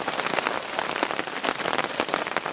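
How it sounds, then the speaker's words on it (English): Heavy tropical rain pours down on a jungle camp with a tarp shelter, a dense, loud, constant patter of drops striking surfaces, with no voices. "And we will just wait for the rain to maybe stop."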